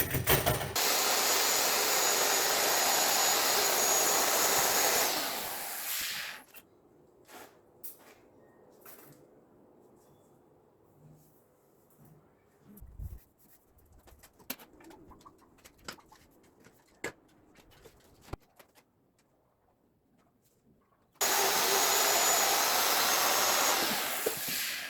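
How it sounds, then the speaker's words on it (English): Electric router cutting a hinge recess into wood, a loud high whine that runs steadily at the start, stops for a long stretch of quiet with scattered knocks, then starts again near the end. "use the router and route it down by that amount so that the hinge sets in"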